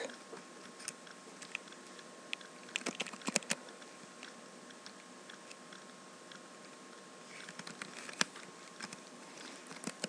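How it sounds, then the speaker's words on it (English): Someone types on a computer keyboard while configuring a network switch, giving a steady patter of soft, quick key clicks with a few louder taps, close up and fairly quiet throughout. "And we gotta type in our IP"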